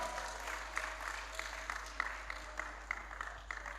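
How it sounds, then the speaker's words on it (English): Steady applause from a graduation ceremony audience at a preparatory school, clapping continuing evenly throughout at moderate loudness over a constant low hum, with no one speaking. "Give them a round of applause, man."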